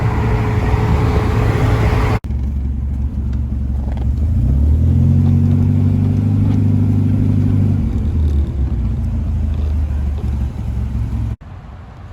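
A Morgan sports car cruising on an open road, a steady loud rumble of engine and wind with a gear change partway through, continuous and close, no talking.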